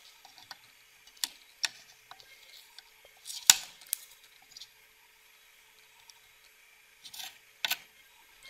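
A blown FET is cut out of a pure sine inverter circuit board, heard as sparse, faint snips and sharp clicks with quiet handling noise between them.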